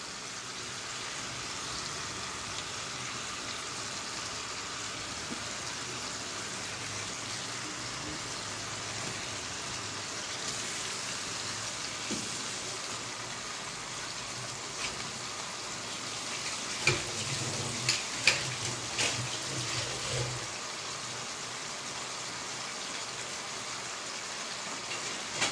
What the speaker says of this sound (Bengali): মাছটাকে আমি এপিট এপিট একটু ভেজে নেব।